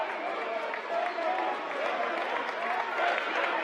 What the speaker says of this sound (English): the New Oxford faithful, as you can hear, they're on their feet cheering